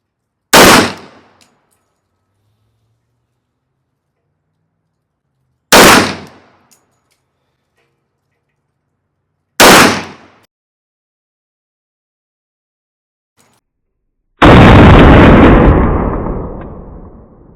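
A .460 Rowland handgun fires Buffalo Bore rounds at a target about 25 yards away: three sharp, loud gunshots spaced several seconds apart, each with a quick decay, then a fourth blast with a longer, sustained roar, no talking.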